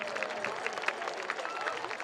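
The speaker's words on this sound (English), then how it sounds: "Let's have a round of applause for John Trombley" Stadium crowd at a college football game applauding, steady distant clapping and crowd noise, fairly faint.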